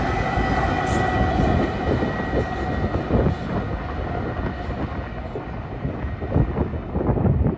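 Southern Pacific painted locomotive and train rolling past close by, a continuous loud rumble of wheels and cars with faint high squeals, steady throughout.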